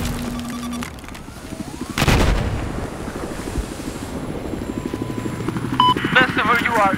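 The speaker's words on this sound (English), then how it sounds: "Видел вражеский вертолет!" An enemy helicopter in the video game Battlefield 4, its steady rotor chop thrumming throughout alongside a loud gunshot burst and other battle noise, with voices talking over it.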